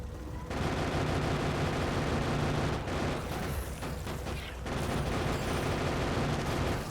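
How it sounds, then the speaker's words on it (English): Sustained gunfire from the player's gun in Factorio, a dense continuous rattle of shots, fairly loud, with a brief thinning midway before the firing resumes. "so shoot them with a gun"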